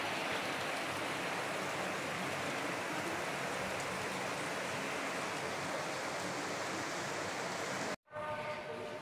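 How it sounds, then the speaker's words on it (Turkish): Steady rain pours down continuously in a dense, even hiss, with a low rumble underneath that could be distant thunder, then cuts off abruptly near the end. "Ama şimdi sade yağmur var. Gök gürültüsüyle beraber."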